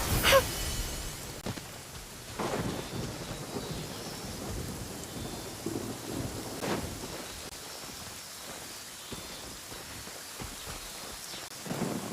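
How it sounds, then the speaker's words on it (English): Rain and thunder in the Genshin Impact video game: steady rainfall patters throughout while several sharp cracks of thunder break out at intervals, each followed by a rolling rumble that fades back under the rain. "Since we're already caught in the rain,"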